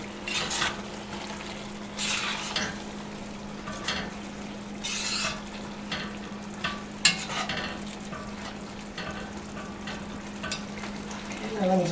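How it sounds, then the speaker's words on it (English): Jambalaya frying in a pot as a spoon stirs it, a soft continuous sizzle with scraping strokes and occasional clinks of utensil against metal, close and fairly quiet. "Give that a stir."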